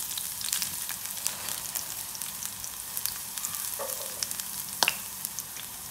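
Three or four cloves of chopped garlic and a small piece of chopped ginger fry in hot oil, making a soft, steady sizzle with occasional clicks and scrapes of a stirring spoon. The sound is quiet and close, with no speech.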